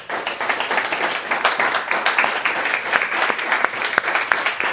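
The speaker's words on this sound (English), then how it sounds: "perhaps we can give a round of applause to our three terrific speakers" A round of applause from the audience at a panel discussion on the circular economy, thanking three speakers, with lively, close, slightly uneven clapping that swells and dips.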